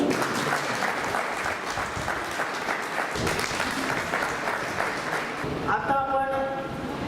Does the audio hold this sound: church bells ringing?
no